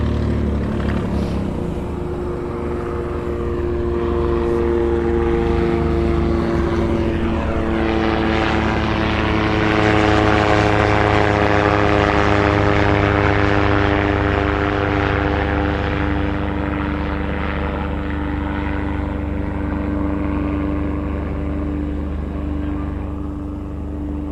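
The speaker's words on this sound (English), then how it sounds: "there is the autogyro that you saw on flight radar earlier" An autogyro flies past at Cotswold Airport, its propeller and engine drone swelling steadily to a loud, sustained peak around the middle and then easing slightly, heard alone without talk.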